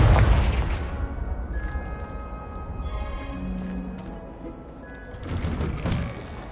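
Confringo blasting spell explosion in Hogwarts Legacy, a heavy boom at the start fading into a rumbling tail with chiming magical tones, then a second softer burst toward the end.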